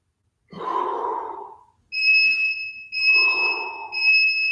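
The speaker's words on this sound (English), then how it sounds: "It makes more sense to inhale and then exhale down." Deep breaths during a bodyweight workout: a long audible inhale or exhale, then two more breaths partly covered by a steady electronic beeping tone that sounds in short repeated bursts.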